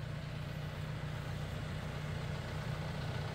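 A John Deere 6135E tractor idles with a steady low diesel rumble, constant and close with no change in speed for a few seconds; no voices are heard.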